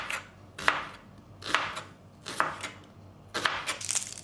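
An onion is chopped into small pieces on a board, with five distinct knife chops spaced at an irregular pace, fairly close and otherwise quiet.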